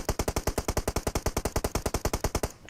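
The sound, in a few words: M4 rifle gunfire in a video game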